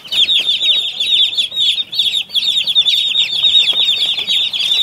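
Chickens on a poultry farm cluck and squawk continuously at close range, with bursts of wing flapping mixed into the busy, steady flock noise.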